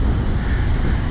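Strong storm wind on the Crimean coast at Popovka buffeting a microphone, a loud, continuous low roar and rumble with no voices.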